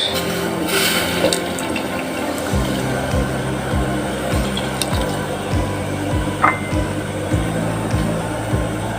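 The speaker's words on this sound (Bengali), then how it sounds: "তারপর দিয়ে দিব মালটার রস" Malta orange juice pours into a pot while sweet zarda pulao is cooking, making a continuous close liquid splashing and gurgling with soft clinks, and no voices.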